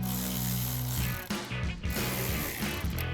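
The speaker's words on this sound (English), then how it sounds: "Use our ratchet and 8mm socket and loosen those up." A ratchet with an 8mm socket loosens the intake clamps on a 2014-2019 Corvette C7, giving dense, rapid clicking at close range that fills the short moment with mechanical chatter.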